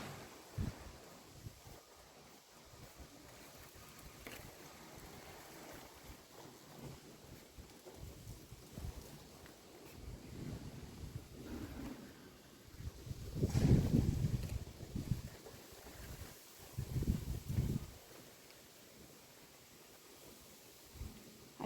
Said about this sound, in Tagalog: Dahil sa mahangin na naman, nag-aalikabok.